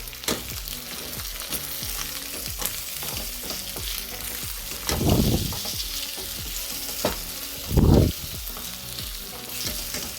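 Pork binagoongan sizzles and fries in a pan while being stirred, with a constant crackling sizzle broken by rhythmic scraping strokes and two louder, splashing stirs.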